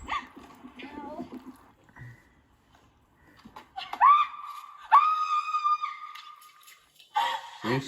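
A dog screams and howls in drawn-out, rising wails, two long cries close to the microphone with a shorter burst at the end, following a stretch of people talking and laughing.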